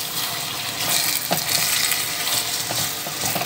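Crushed garlic frying in a pan with caramelized onions for a rice couscous dish, a steady loud sizzle with scraping stirring noises throughout.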